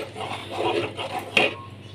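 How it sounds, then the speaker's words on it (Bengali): A spoon stirs spice paste into vegetable khichuri in a pot, making soft rubbing and scraping sounds at close range. One brief clink of metal on the pot comes near the middle, and there is no talk. "এবার এই পেস্টগুলো, মশলার পেস্টগুলো আমি খিচুড়ির মধ্যে দিয়ে দিচ্ছি। ভালো করে এর মধ্যে এবার মিশিয়ে নিতে হবে।"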